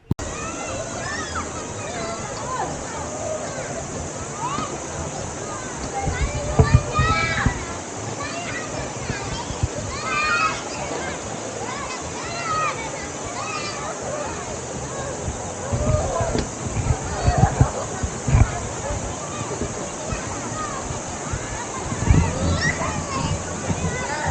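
Shallow river water flows and splashes near Canding Falls in San Clemente, Tarlac, a steady broadband rush with louder sloshing bursts from wading, while people talk, including a voice, over it.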